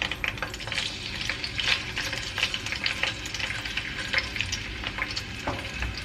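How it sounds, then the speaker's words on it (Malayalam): Fish with curry leaves frying in hot oil for Kerala fish pickle, a steady crackling sizzle with irregular sharp pops, close by and alone without talk. "നമുക്ക് ഇനി മീൻ ഇതിൽ തിരിച്ചിട്ടിട്ട് വറുത്ത് കോരി എടുക്കാം."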